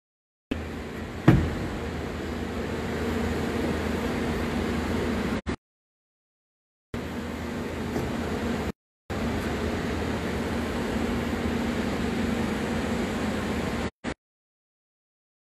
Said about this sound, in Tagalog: yan po yung aircon ventilation para siguradong super lamig pagdating sa loob